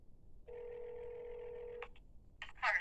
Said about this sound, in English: You're actually going to let a business phone ring for several minutes.